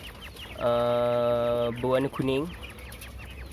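Quail held in the hand give a loud, sustained harmonic call followed by two shorter calls, close to the mic, with a person talking just before and after.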